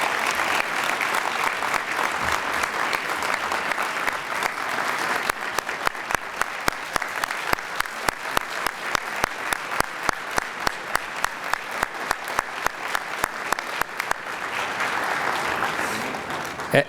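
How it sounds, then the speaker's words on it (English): A room at the Louisiana Legislative Black Caucus Bayou Classic scholarship jazz brunch applauds Dr. Belton with sustained, dense clapping that turns into a steady rhythmic beat of unison claps for most of its length. "Please give Dr. Belton a round of applause,"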